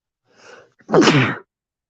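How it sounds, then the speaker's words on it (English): A single close sneeze: a soft intake of breath followed by a sharp, loud burst, then silence. "Got a sneeze coming."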